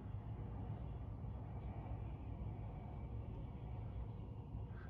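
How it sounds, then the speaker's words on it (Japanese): A steady low rumble of a train passing on tracks beside a steel-framed hotel in Tokyo, muffled and continuous throughout, with no voices. "ここはやっぱ線路の隣なんで、うるさいんですよね"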